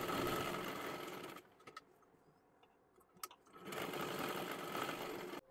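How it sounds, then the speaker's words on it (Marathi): A sewing machine stitches tucks on the back of a blouse in two steady runs close to the microphone. A quieter gap between the runs carries a few faint clicks. "दोन्ही सुद्धा बाजूंचे टक्स आपल्याला शिलाई करून तयार करायचे आहेत।"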